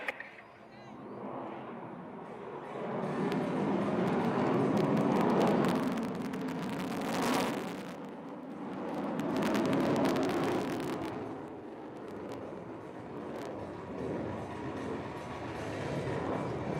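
Su-30 MKI fighter jet performing at an air show over Marina Beach, Chennai, a broad continuous roar that swells and fades as it passes, with a commentator's voice over it.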